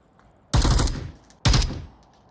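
Two loud, close bursts of gunfire in the VR shooter Onward, each a sharp crack with a short tail, spaced about a second apart over quiet background.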